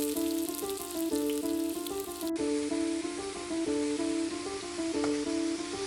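Whole spices and asafoetida crackle and sizzle in hot oil for a Bengali chana dal, a steady close frying hiss with faint popping throughout and no voices.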